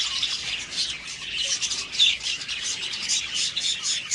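Budgerigars kept for breeding chirping and squawking, a busy flock of thin, rapid, scratchy calls repeating continuously at moderate volume nearby.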